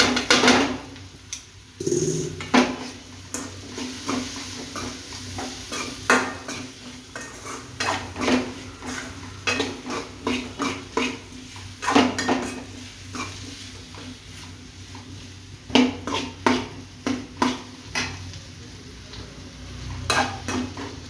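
Metal spoon repeatedly scraping and clinking in a pan as spiced beans with chili powder, salt and sambar powder are stirred, steady clatter at close range with a faint sizzle underneath.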